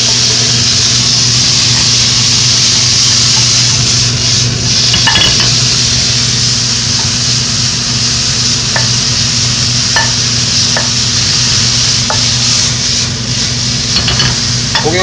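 Beef strips stir-frying in a hot frying pan for Chinese-style chili pepper japchae: loud, continuous sizzling close up, with a low steady hum underneath and scattered clinks and scrapes of utensils against metal.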